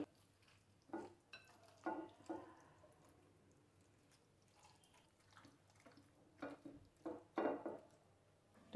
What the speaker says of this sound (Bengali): এখন ভালো করে এটা মাখাবো